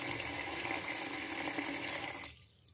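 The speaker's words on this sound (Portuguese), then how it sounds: "agora eu vou botar aqui uma quantidade de água" Water pours steadily into a pot for an orange peel sweet, a continuous broadband rush that stops abruptly near the end, leaving quiet.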